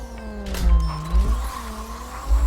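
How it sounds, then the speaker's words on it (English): A Honda Civic Type R racing engine in a video game whines upward through the revs toward a rev limit around 9,000 rpm, with pitch falling at gear shifts and low thumps underneath, steady and fairly loud. "I need to hear when I hit the rev limit on this."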